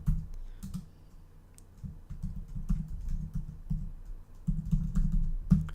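Computer keyboard typing at a terminal while configuring the AWS command line, with irregular clusters of close, crisp keystrokes and brief pauses between bursts, and no talking.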